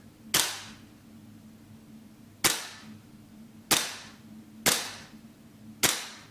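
A gas blowback airsoft rifle, a GM MWS GBBR, fires five single shots at irregular intervals of about one to two seconds. Each report is a sharp, loud crack with a short decaying tail over a low steady background hum.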